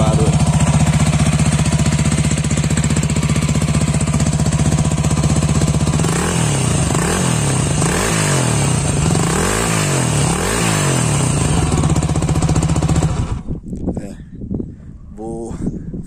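A loud new motorcycle engine idles roughly, then revs in several rising and falling swells before cutting off sharply, with the noisy exhaust close and dominant throughout.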